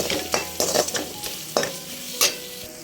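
Masala being sautéed in a pan for hotel-style macaroni, with a steady sizzle broken by several sharp scraping stirs of a spoon against the pan, close and fairly loud, no voices.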